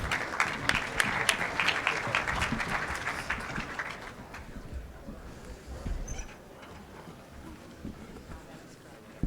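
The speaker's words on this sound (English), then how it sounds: "Please welcome them with a big round of applause." Big round of applause from a summit audience welcoming panelists at a crowdfunding event, loud and dense for about four seconds, then thinning to scattered claps and faint room noise.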